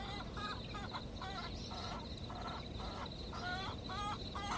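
Native hens kept in Dubai cluck and call in a steady series of short, loud honking notes over constant background noise, with no voices.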